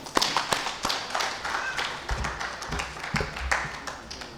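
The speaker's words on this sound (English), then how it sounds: "I think we deserve an applause for one another." Sparse, uneven clapping from a small group at a lands directors' conference, with individual hand claps and taps standing out at a moderate distance rather than a full ovation.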